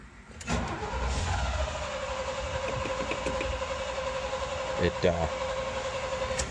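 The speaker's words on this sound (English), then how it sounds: "you got to fight with this choke a little bit to start it" A 1977 International Scout II V8 cranks and fires up after sitting, settling into a steady idle with rough engine revving near the end, close and loud.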